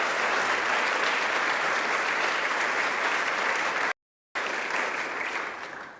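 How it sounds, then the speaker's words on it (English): Audience applauding a New York State Parks team at a Long Island resiliency announcement: sustained, loud, dense clapping from a crowd, with a brief gap of silence near the end. "let's give them a round of applause"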